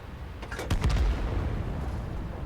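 Distant artillery shell fire in World of Tanks, a deep booming blast with a short broadband crack, then a low rumbling battle ambience that lingers.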